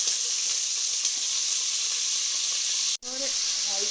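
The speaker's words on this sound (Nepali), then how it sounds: "अब म यसमा यो बोनलेस चिकनलाई यसलाई मजाले फ्राई गर्ने" Boneless chicken pieces fry in hot oil in a home kitchen, giving a loud, steady sizzle that runs without a break until a brief dropout near the end. The sizzle then resumes with faint clinks from the pan.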